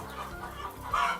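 Caged chickens on a poultry farm, around 120 birds to a cage, cluck and murmur close by in a short, busy burst with one louder squawk near the end.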